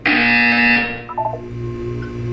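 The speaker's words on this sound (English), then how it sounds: "You will hear a buzzer." A loud, steady electronic buzzer from the game Portal 2 sounds for about a second and then cuts off, leaving faint tones and low background hum behind it.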